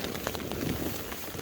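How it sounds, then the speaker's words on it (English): Steady rain falling on a hiking trail along the Continental Divide between Grants and Cuba, a dense close patter of drops with no voices. "As you can hear, it is definitely still raining."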